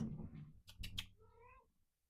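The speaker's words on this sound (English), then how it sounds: "There's a cat back here." A cat gives a short, drawn-out meow, fairly faint, heard once.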